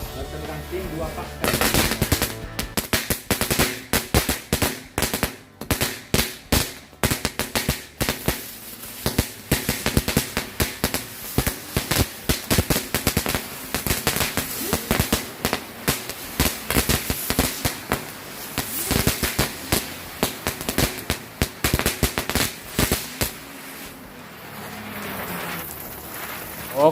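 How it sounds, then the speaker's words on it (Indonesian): Two packs of spinning firecrackers (mercon gangsing) set off at New Year burst in a loud, rapid, continuous crackle of pops for over twenty seconds before stopping abruptly. "selanjutnya kita cobain mercon gangsing sekaligus 2 pak spesial tahun baru."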